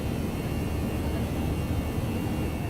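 Continuous broadband roar of an Airbus A319 cruising in the X-Plane 11 flight simulator, a steady engine and airflow rumble with a faint high whine, unchanging and loud throughout.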